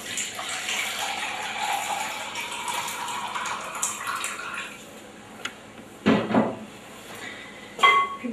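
Warm water poured for no-knead bread dough, a steady splashing stream in a kitchen that thins out, followed by a few clinks and bumps.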